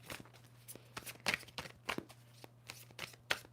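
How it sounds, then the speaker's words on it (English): Tarot cards being shuffled by hand, soft irregular riffling snaps and flutters close by, several short bursts with a low steady hum underneath. "Two more shuffles for Scorpio."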